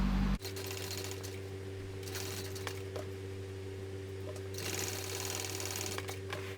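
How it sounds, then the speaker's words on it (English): A sewing machine runs steadily, stitching a second row of seam along a shoulder bag, its rapid needle chatter continuous and close with a brief pause near the start. "I am going to come in and do a second row of stitching just beside the first."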